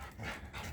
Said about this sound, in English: That's my guard dog.